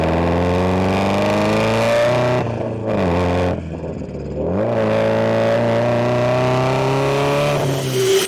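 A gas car's exhaust captured up close by a microphone mounted on the exhaust, loud sustained engine drone with rising and falling revs and a brief dip before climbing again.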